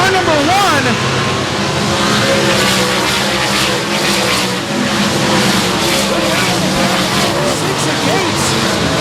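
Race cars roar around the dirt oval at Shady Oaks Speedway during a heat race, loud engine drone with rising and falling passes close by, while an announcer talks over the action.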